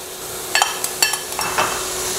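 Onions hit a hot pot for Creole jambalaya with chicken, sausage and shrimp, producing a bright hiss punctuated by a few sharp metallic clanks and scrapes from a utensil, close and fairly loud, no talking.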